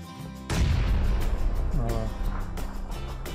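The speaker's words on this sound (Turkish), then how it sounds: "Uzaktalar herhalde bombayı şeye attı" A grenade goes off in PLAYERUNKNOWN'S BATTLEGROUNDS, a sudden loud booming blast with a rumbling tail, followed by further muffled gunfire-like thumps and faint background noise.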